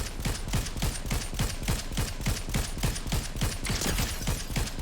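Fortnite Zero Build gunfire: a rapid, steady stream of evenly spaced shots, loud and close, running without a break and with no talk over it.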